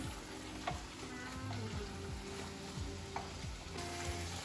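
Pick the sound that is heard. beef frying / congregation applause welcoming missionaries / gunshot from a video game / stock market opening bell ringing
beef frying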